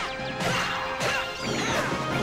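In the Dark Cloud 2 video game, a thrown object strikes enemies, giving loud, sharp smashing impacts at about three moments, each with a brief whoosh and a crunching crash.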